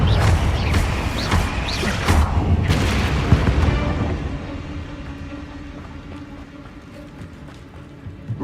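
Confringo explosion spells cast in Hogwarts Legacy, a burst of booming blasts with crackling debris that rumble loudly for several seconds, then trail off into a low fading rumble.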